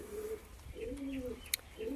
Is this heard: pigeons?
yes